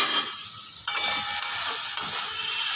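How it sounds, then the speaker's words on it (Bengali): Food being stirred in a pan on a gas stove, with a steady sizzling hiss and a few sharp scraping clicks of the utensil, close and moderately loud, with no talking. "একটুখানি নাড়াচাড়া করে দিই।"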